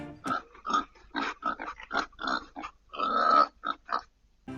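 A voice imitates a piglet oinking during a Spanish children's story about snoring, giving a rapid series of short grunting snorts that sound close and fairly loud in an otherwise quiet room.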